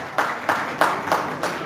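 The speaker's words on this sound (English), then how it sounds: "Give a big round of applause to Aditya Kamath." An audience at a school commerce-faculty toppers' felicitation claps for a student, with about five distinct rhythmic bursts of clapping in quick succession, fairly close.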